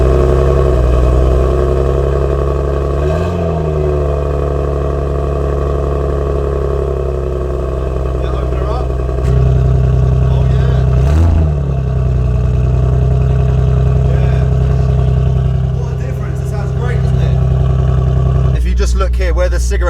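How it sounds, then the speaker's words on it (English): A Nissan Skyline R34 GT-R engine idles loudly and is blipped into short revs with its exhaust valve switched open and closed, its exhaust note deep and rumbling, with a voice talking over it. "hear the difference between the valve open and the valve closed"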